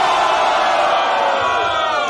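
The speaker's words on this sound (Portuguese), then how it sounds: "Uma salva de palmas!" A crowd at a Brazilian rap battle roars and cheers in a loud, dense burst, with shouts and whoops blending together close by.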